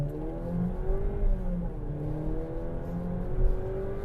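Engine noise from a Jeep Compass pulling away as the accelerator is pressed, with a steady low drone and a smoothly rising and falling pitch, heard from inside the cabin at a moderate level.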